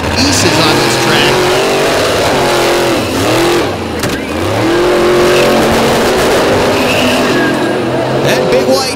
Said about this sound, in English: That big white diesel-powered Chevrolet got out of the hole quick.